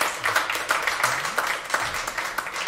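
An audience claps together to show a vote at a live talk show event, producing a steady burst of scattered hand claps that carries on through the whole stretch without any voices.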